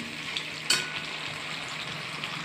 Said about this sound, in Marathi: तुपामध्ये प्रथम मी खवा भाजून घेते.